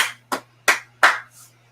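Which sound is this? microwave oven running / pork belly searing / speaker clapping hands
speaker clapping hands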